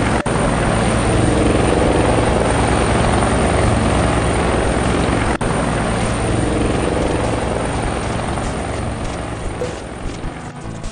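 A helicopter flying in within the Operation Ouch Clonewards video game, a loud continuous rotor roar and throb that holds steady, then eases slightly toward the end.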